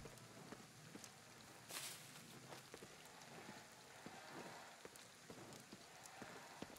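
Steady rain patters over the streets in the video game Ghostwire: Tokyo, a faint continuous hiss of falling drops with scattered sharper splashes and no speech.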